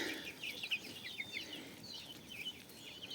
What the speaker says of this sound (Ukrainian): Як суркочуть мої курята вредні.